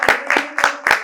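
Theatre audience at the RANG-KARM Theatre Festival 2024 applauding new actors, heard as four quick bursts of clapping, fairly loud and close, with no speech over them.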